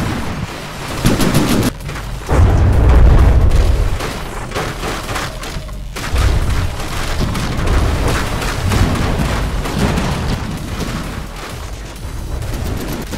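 Turret weapons fire in a video game space battle, with heavy booming blasts and rumbling low impacts in repeated bursts, loud and dense throughout, with no talk.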